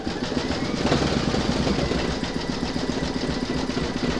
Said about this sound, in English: Pop your hoop into your machine and stitch round number 17, and that's going to zigzag the raw edge.